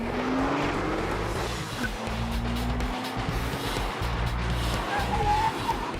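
A car on ceramic brakes during a braking test: a steady, loud engine drone with a rising tonal whine runs throughout, the engine note shifting as the car slows.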